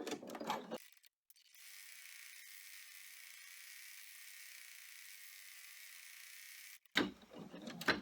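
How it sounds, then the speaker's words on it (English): Embroidery machine stitching a finishing stitch on a drawstring boxed bag in the hoop, a steady mechanical whir and needle rattle running for about six seconds, with brief handling noise before and after. "we are going to do a finishing stitch to hold these all"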